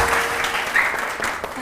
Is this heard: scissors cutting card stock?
no